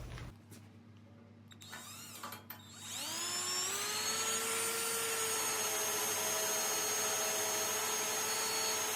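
Grinder blending a weld on a dirt bike frame, spinning up after a few seconds of faint clatter into a steady, high, whining drone that holds to the end.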